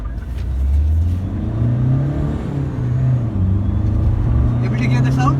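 A 2012 Hyundai Verna car accelerating hard on a test drive, its engine note droning steadily and rising in pitch from inside the cabin, loud and continuous throughout.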